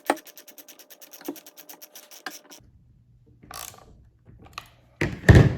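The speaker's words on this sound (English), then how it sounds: "we're just going to tighten this bolt." A bolt on a Husqvarna Rancher 455 chainsaw is tightened with a ratchet, giving a quick run of about twenty close, crisp clicks. A pause follows, then a few scrapes and a louder clunk of handling.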